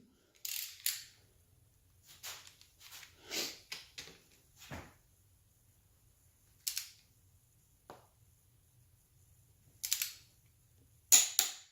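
A ratchet tightens head bolts on a turbocharged LQ4 V8 engine build, giving sharp, isolated clicks and short clicking bursts separated by quiet gaps, close and fairly loud.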